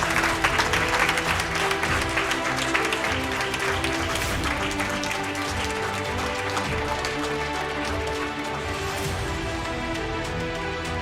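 A full hall applauds the first-prize poetry winner at an intercollegiate prize-giving ceremony. The clapping is thick and continuous over steady background music and eases slightly toward the end.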